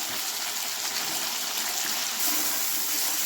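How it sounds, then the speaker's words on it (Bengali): Water is poured steadily into a pot of potato and drumstick curry, a continuous close gushing splash that does not let up. "আমি একটু এখন জল দিয়ে দিই"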